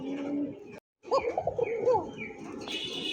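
Pigeon cooing in a series of rising and falling calls, fairly close and moderately loud, after a brief gap, with a steady background hum and a faint bird chirp near the end.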